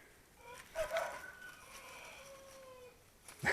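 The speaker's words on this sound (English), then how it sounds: "A rooster with a sore throat." A rooster with a hoarse, strained crow calls once from a distance in a Panama garden, the rasping cry stretching thin and faint over quiet outdoor background.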